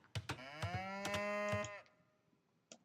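A cow in Age of Empires gives a long, loud moo with a strongly harmonic, sustained tone lasting over a second, followed by short percussive game clicks and a brief sound near the end.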